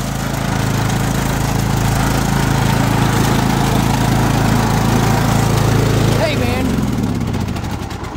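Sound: lawn mower engine running as someone rides off on it

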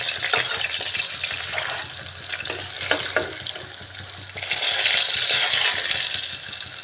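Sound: ash gourd pieces frying in oil

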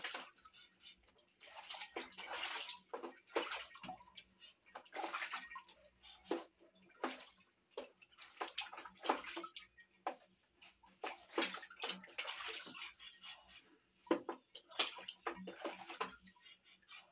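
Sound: water sloshing as animals bathe in a basin

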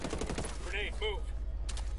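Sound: gunfire in video game Ghost Recon

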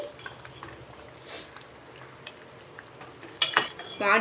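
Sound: stirring mango pulusu in a pot after opening the lid

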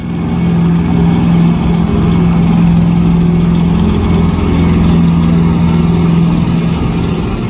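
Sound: steel tank engine

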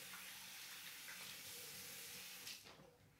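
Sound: washing hands under running tap water

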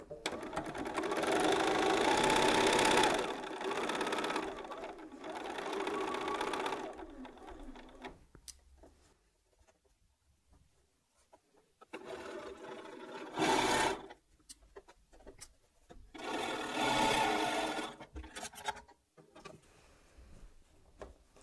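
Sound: sewing machine stitching quilt fabric seam

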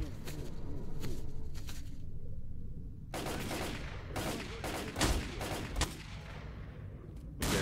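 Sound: sniper gunfire in video game S.T.A.L.K.E.R.: Call of Pripyat

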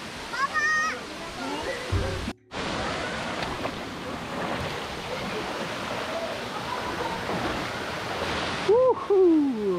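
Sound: Sabun waterfall in Düziçi, Osmaniye

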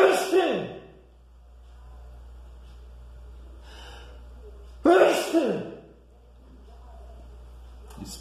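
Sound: sneeze

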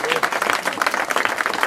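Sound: audience applause

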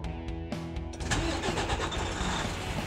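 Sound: Western Star truck engine starting

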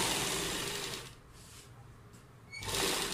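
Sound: sewing machine stitching the centre of a double piping neckline

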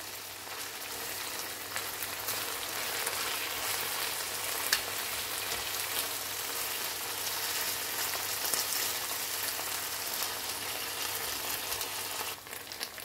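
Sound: chicken breast cooking with wine in a frying pan

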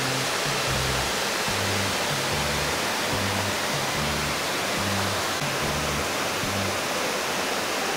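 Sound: Bigar waterfall rushing water

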